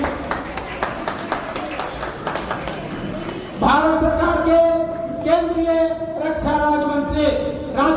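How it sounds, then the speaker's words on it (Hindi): At a mass wedding and annual gathering ceremony, an audience gives scattered, rhythmic clapping to welcome guests. A voice over a loudspeaker then takes over and mostly covers the applause. "जोरदार ताली बजाकर स्वागत करें"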